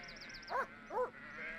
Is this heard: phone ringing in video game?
no